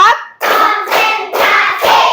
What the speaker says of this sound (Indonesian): Ibu mau mengajarkan tepuk yang baru.